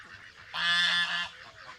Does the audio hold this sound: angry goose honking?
yes